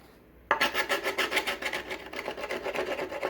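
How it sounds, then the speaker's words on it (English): Edges of skateboard grip tape on a Powell Flight Deck being ground down: a rapid rhythmic rasping scrape, like filing, that starts abruptly after a quiet moment and repeats in steady strokes, close and alone. "now that I cut all the edges, I will grind down the edges one more time."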